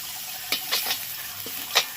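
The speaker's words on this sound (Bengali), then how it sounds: "একটু ভালো করে ভেজে নিতে হবে চিংড়িগুলোকে" Shrimp frying in oil in a pan for a prawn and poppy-seed dish: intermittent scraping stir strokes rise over a soft, continuous sizzle, close and fairly quiet, with no talking.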